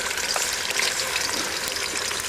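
Pilaf fries in a cauldron that is darkening with heat, giving a steady, dense, hissing sizzle with crackling pops throughout and no voices.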